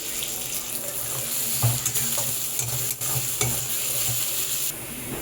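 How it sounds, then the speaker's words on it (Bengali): Onions are dropped into hot oil with browned ginger and fry in a dense, steady hiss and crackle, with a few clanks of stirring against the pan and no speech. "এইবার আমি পেঁয়াজগুলোকে তেলের মধ্যে ছেড়ে দিচ্ছি।"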